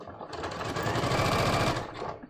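A sewing machine runs a zigzag stitch in one fast continuous burst of rapid mechanical clatter, close and clear, ramping up and winding down within about two seconds with no talk.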